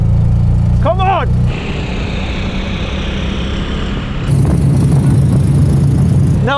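Several cars run a rolling drag race in third gear, with a loud, close engine roar, one brief rising engine whine, then a shift to a steadier drone and another surge of revving near the end.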